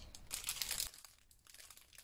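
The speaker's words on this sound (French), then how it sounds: "Pardon pour le bruit. J'ai un joli petit sachet." Crinkling and rustling of a small plastic packaging sachet handled close up, a dense burst of crackling then quieter intermittent crinkles, fairly soft.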